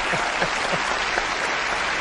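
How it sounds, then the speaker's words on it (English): Studio audience applause during a live paranormal television broadcast, dense clapping that stays loud and steady from start to finish with no talk over it. "Leslie Smith, Paul Ross, give them a round of applause"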